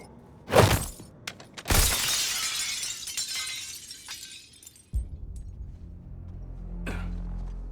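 Glass shatters loudly in the Suicide Squad: Kill the Justice League video game, with two sharp crashes and a long tinkling spray of falling shards, then a low thud and a later faint crack.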